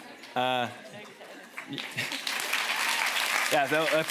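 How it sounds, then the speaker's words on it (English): Lecture and discussion audience applauding the vloggers, a steady crowd clapping that builds under overlapping voices and chatter, with a speaking voice cutting in near the start and again at the end. "Applause for our vloggers who spend a lot of time on this."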